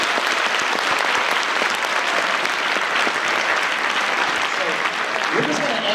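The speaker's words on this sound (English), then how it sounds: "Please give them a big round of applause" At an incoming ninth-grade family night at a school, an audience claps in a steady, full round of applause lasting the whole stretch, with voices faintly mixed in near the end.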